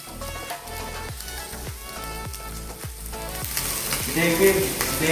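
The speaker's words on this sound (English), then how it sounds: "We slice the sausages to fry them, also in a tablespoon of olive oil." Sliced sausages fry in a tablespoon of olive oil in a pan for Mexican tortillas, giving a steady close sizzle with regular soft knocks that build louder and brighter toward the end.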